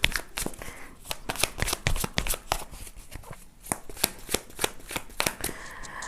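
Tarot cards being shuffled and handled up close, a steady run of crisp riffling snaps and soft slaps, quiet and continuous with no talk.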